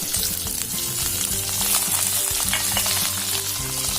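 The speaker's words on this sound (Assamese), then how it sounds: "এইখিনি হাই ফ্লেমতে অলপ ফ্ৰাই কৰি ল'ম 1 মিনিটমান সময়ৰ কাৰণে" Pork fries in a pan over a high flame, a loud, dense, continuous sizzle with stirring scrapes and clatter throughout.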